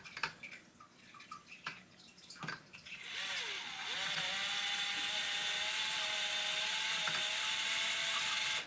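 A small RC 2WD dirt promod car's nitro engine is pulled over by hand with a few clicks and rattles, then catches and runs in a steady, high-pitched buzzing whine that holds to the end.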